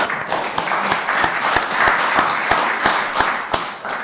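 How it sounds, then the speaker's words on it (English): A round of applause at a city council meeting after a unanimous vote, a lively mix of individual claps and steady clapping, close and fairly loud, with no talk over it. "So let's have a round of applause."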